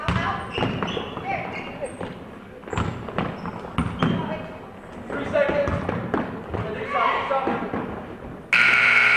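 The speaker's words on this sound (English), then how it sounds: "That's the buzzer." A loud electronic buzzer blares at the very end of a junior varsity girls' basketball game, after a stretch of ball bouncing, sneaker thuds and a commentator talking over the gym noise.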